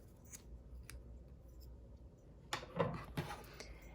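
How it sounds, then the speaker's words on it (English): Scissors snip through a loop of crochet yarn in a couple of quick, close cuts near the end, after a stretch of quiet handling. "we're going to take this loop and snip it"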